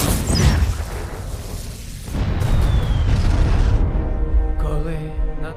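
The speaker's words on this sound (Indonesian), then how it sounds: "tanpa sengaja Kapten Leon menginjak salah satu ranjau yang mengakibatkan bom-bom di sana pun meledak." Several landmines and bombs explode in quick succession, loud and close, with deep rumbling blasts and debris-like crackle trailing off.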